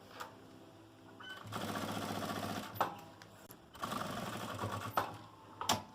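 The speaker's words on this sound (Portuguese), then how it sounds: "Vou iniciar uma costura bem na beiradinha aqui. E vou vir costurando toda a volta." Sewing machine stitching around the edge of a fabric pouch with a clear plastic window, running in loud rapid bursts separated by short pauses and clicks.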